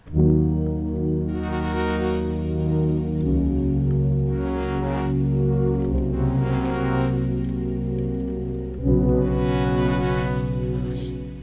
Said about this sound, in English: pressure pads sounds like this